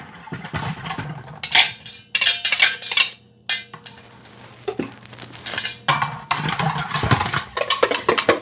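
Melted butter is whisked into a wet batter mix in a bowl, with irregular clattering scrapes of the whisk against the bowl in quick bursts and short gaps, close and fairly loud.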